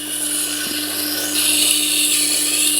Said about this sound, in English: It's nice and even there to grind on this machine.